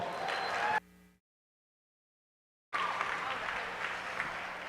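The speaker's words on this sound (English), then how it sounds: "Let's give these kids a big round of applause." Crowd applause in the show arena at the Southeastern Youth Fair 2024 swine show, moderate clapping that cuts to silence for about two seconds, then resumes steadily.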